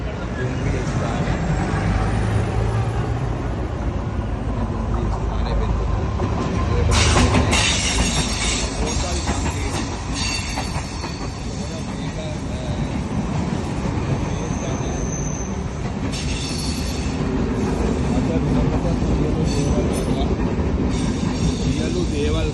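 A train at Bentota railway station, loud rumbling carriages and clattering wheels rolling past up close with occasional squeals, a voice talking over it.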